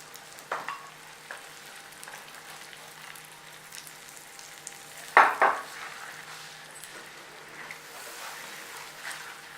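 Eggs and tomatoes fry in a pan, giving a soft continuous sizzle at low level, broken by a few clinks of a utensil against the pan and one sharper metallic scrape midway.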